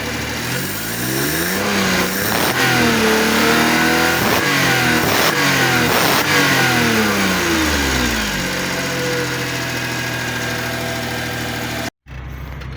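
Suzuki K6A engine in a DA62 vehicle, recently repaired, revving up and down several times then settling into a steady idle, close and loud throughout.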